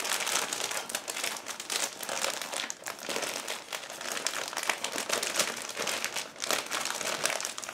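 Sealed plastic bags holding sprues from a Zoukei-Mura 1/32 Do 335A-0 Pfeil model kit are pulled open, producing close, continuous crinkling and crackling of thin plastic film without pause.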